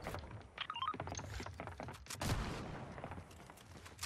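Gunfire in a Fortnite match, including a sniper rifle shot, comes as a burst of sharp cracks and thumps mixed with clicks and other game sounds, fairly faint overall.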